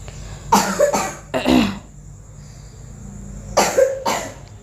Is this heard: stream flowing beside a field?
no